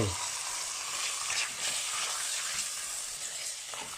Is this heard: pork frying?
yes